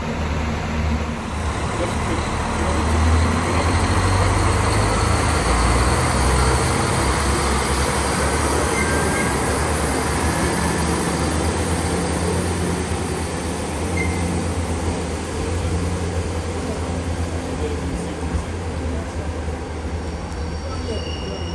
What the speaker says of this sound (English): unfortunately the train has come through